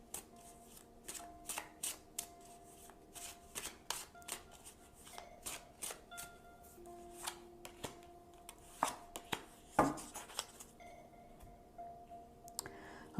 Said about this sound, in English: So now I'm going to choose 2 cards for possible outcome.